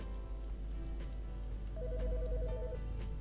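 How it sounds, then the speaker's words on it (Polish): A telephone rings in the video game Midnight Heist, a faint electronic ring tone repeating in short pulses over a low, steady background hum. "Telefon dzwoni."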